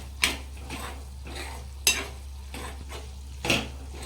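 Garlic frying in oil in a kadhai while being stirred, a soft continuous sizzle punctuated by three sharp metallic scrapes of the spoon against the pan, spaced roughly every one and a half seconds.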